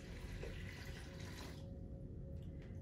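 Faucet water runs while a plastic urinary drainage bag container is rinsed out at a sink, a steady hiss of flow that softens partway through, with no talking.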